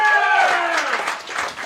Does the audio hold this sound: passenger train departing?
no